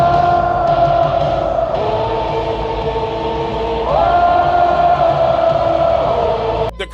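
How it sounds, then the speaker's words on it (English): A huge WrestleMania arena crowd sustains a massed, droning 'woo' chant as Seth Rollins makes his entrance, the sound holding as a steady wall and shifting pitch midway before cutting off abruptly at the end. "Seth Rollins would make his entrance to a sea of woes"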